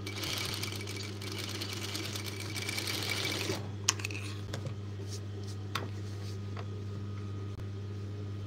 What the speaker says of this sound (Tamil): இது வந்து தையல் போடுங்க.